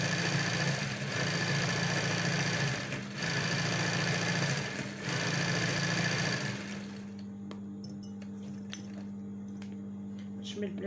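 A sewing machine stitches Tunisian embroidery with a steady, fast mechanical hum and rattle that runs for several seconds and then stops, followed by quieter clicks and handling noises as someone speaks.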